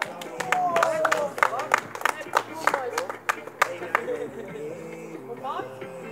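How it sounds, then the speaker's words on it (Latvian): A small crowd at a winter street workout event claps for the second-place winner, with scattered uneven hand claps and cheers mixed with loud talking. "Nu, aplausi Ivo"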